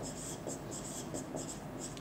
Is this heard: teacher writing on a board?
yes